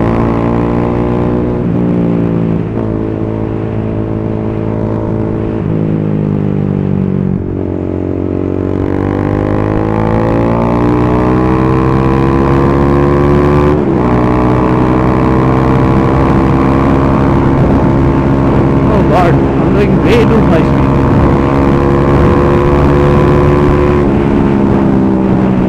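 A group of about seven KTM Duke 390 motorcycles riding together near Kelwa beach, with a loud, steady single-cylinder engine drone. The engine note rises and shifts as the bikes accelerate and change gear, and wind buffeting sounds throughout.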